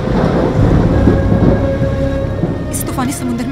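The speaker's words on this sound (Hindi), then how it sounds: "तूफान हमारी तरफ बढ़ रहा है।" Thunder rumbles loudly over a stormy sea with heavy rain, a continuous low roar filling the whole stretch, with a faint voice-like tone briefly near the end.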